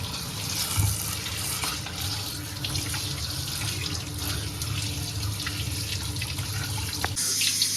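A kitchen tap runs steadily while something is washed under it during fish curry preparation, a continuous close splashing stream with no talking.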